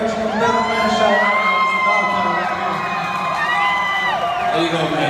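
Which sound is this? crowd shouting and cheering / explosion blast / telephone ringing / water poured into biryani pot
crowd shouting and cheering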